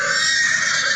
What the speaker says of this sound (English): I did hear the galloping of horse.